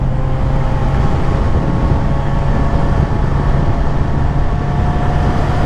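A 2024 Suzuki GSX-S1000 motorcycle being ridden on the road, a loud steady engine drone mixed with heavy wind rush, continuous and close.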